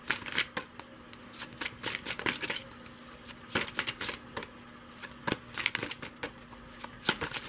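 Oracle cards being shuffled by hand, a quick run of crisp riffling bursts and soft slaps repeating close up in a quiet room, with no speech.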